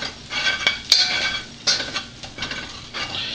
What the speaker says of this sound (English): That flour and that grease mix in there.